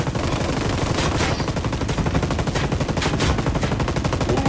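Light machine gun firing in Ghost Recon Wildlands, a dense sustained burst of rapid automatic shots, loud and continuous throughout with no pause.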